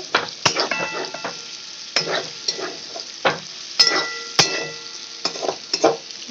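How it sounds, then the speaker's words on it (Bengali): Vegetables and tomato stir-fried for chow mein, with a continuous sizzle under repeated close scrapes and knocks of a spatula against the pan, coming in irregular bursts. "ভাজা ভাজা করে নিচ্ছি টমেটোটার সাথে।"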